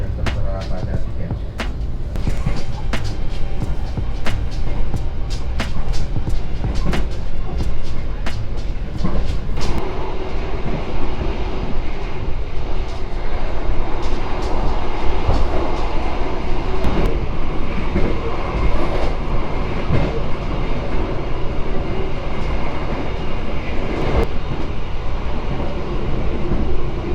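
A heavy passenger train rolls past close alongside on a run to Surabaya Pasar Turi, a steady loud rumble with rhythmic wheel clatter and sharp rail clicks early on, continuing without letup throughout.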